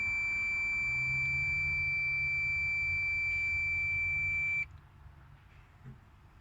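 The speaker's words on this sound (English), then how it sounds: "Beep on open." A multimeter's continuous high-pitched continuity beep sounds for several seconds, then cuts off abruptly, leaving quiet background noise.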